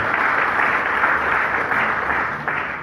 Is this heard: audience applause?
yes